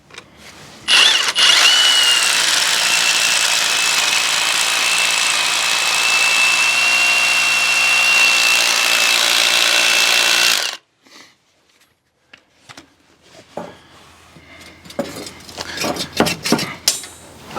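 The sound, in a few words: Bauer 20V brushless SDS rotary hammer drilling 1/2 inch hole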